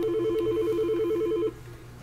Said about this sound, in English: Phone.